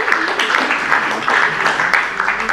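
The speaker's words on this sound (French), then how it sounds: "On peut applaudir." Audience at a French conference-style stage performance applauding, steady dense clapping filling the room for the whole stretch, loud and close with no pause.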